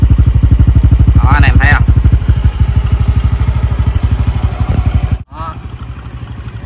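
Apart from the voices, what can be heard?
Honda Wave Thai 110 motorcycle engine running after rebuild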